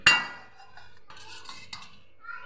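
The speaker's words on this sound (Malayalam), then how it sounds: "ഈ ഗോതമ്പ് പൊടിയും അരിപ്പൊടി ഉപ്പും കൂടെ ഒന്ന് ഇളക്കി എല്ലാം കൂടെ ഒന്ന് യോജിപ്പിക്കണേ" Wheat flour, rice flour and salt are mixed in a bowl for unniyappam batter, opening with a sharp metal clink and followed by light scraping and tapping of a spoon against the bowl, close and quiet.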